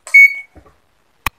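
A digital multimeter switched to buzzer (continuity) mode gives one short, clear electronic beep at close range, followed by quiet handling clicks, during an electric drill repair.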